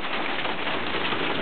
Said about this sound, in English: hailing outside, I don't know if you can hear it.